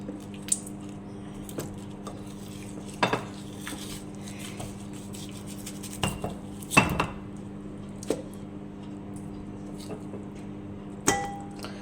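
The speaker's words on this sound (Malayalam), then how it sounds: "ഇനി നമുക്ക് ചിക്കൻ ഇതിലേക്ക് ഇട്ട് കൊടുക്കാം." Chicken pieces and vegetables are tossed in a bowl, with soft, sporadic squishy thuds and occasional light clinks of a utensil against the bowl over a low background hum.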